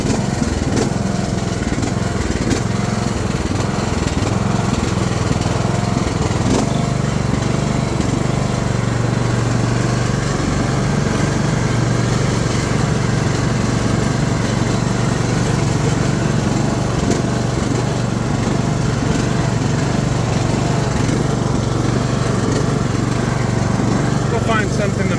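A Bolens ride-on lawn mower engine runs steadily as it warms up, a continuous low mechanical drone with a high whine, close and loud for the whole stretch, with faint voices in the background.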